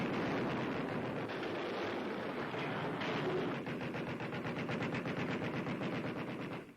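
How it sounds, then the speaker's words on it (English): Rapid bursts of shipboard anti-aircraft gunfire firing at a Japanese plane in 1942, dense rhythmic pounding that continues throughout, loud and somewhat distant over a windy rumble. "met with a hail of anti-aircraft fire"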